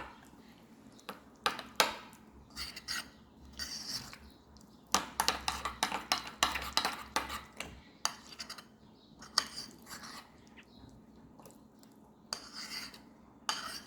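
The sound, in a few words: mixing guacamole in a bowl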